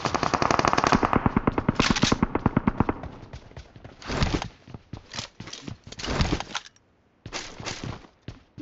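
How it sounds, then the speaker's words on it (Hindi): Gunfire in the mobile battle royale game BGMI: a long rapid automatic burst followed by several shorter bursts of shots with brief gaps, loud and close, with no talking. "और सामने की तरफ से गन फायर भी आता है"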